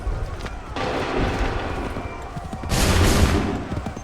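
A ragged volley of musket fire in Assassin's Creed 3, a dense crackling burst that swells again near the end, loud and close, with shouted commands mixed into the din.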